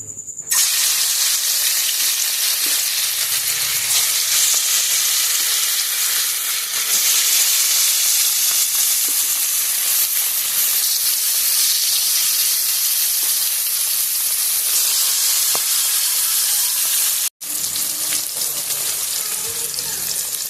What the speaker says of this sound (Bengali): মাছগুলো আমি এখানে ভেজে নিচ্ছি আর মাছগুলো আমি একটু লাল লাল করে ভেজে নেব